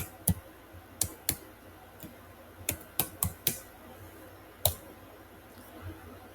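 Sparse computer keyboard keystrokes entering a short terminal command, crisp isolated clicks spaced irregularly with pauses between them, close and fairly quiet, no voices.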